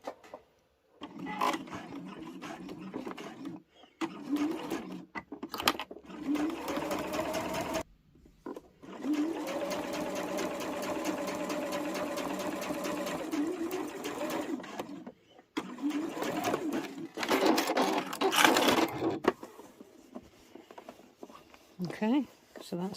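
A domestic sewing machine stitches a seam on a quilted fabric pouch in several long whirring runs separated by short stops, with a person talking between bursts.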